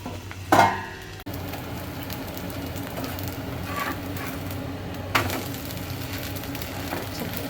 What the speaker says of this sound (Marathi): हा बघा डोसा बनतोय आपला, झाकण ठेवूया त्याच्यावर